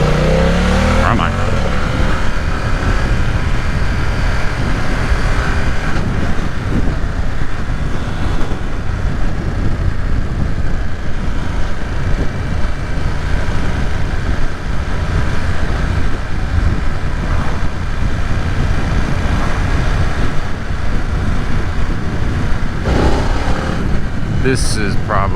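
A 2020 BMW F900R motorcycle engine drones continuously while being ridden on the road, with loud wind rush and road noise throughout and a rider talking over it.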